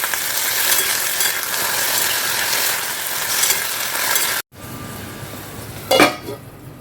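Okra chachchari frying in a pan gives a loud, continuous sizzle, then a sudden cut to a quieter hiss marked by a brief clatter of utensils.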